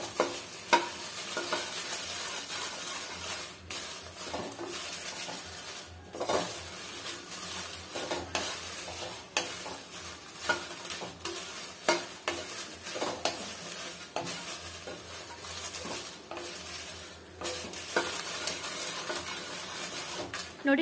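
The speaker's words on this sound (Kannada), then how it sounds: "ಮೆಣಸಿನ್ಕಾಯಿ ಸ್ವಲ್ಪ ಕ್ರಿಸ್ಪಿ ಆಗಬೇಕು, ಅಲ್ಲಿವರೆಗೂ ಚೆನ್ನಾಗಿ ಫ್ರೈ ಮಾಡ್ಕೊಳ್ಳಿ" Byadagi dried red chillies frying on a low flame for rasam powder, a steady soft sizzle with regular scraping and stirring strokes from a spatula throughout, fairly quiet and close.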